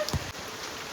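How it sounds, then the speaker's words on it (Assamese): Heavy, non-stop rain, falling since the previous night, makes a steady broadband patter for about a second, with a few brief low thumps near the start. "নন ষ্টপ বৰষুণ কালি ৰাতিৰ পৰা।"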